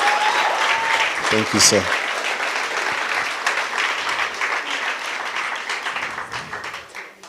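An audience at a youth business awards chat event breaks into sustained, loud applause that slowly tapers off, with someone speaking briefly over the clapping.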